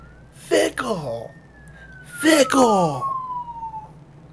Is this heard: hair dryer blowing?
no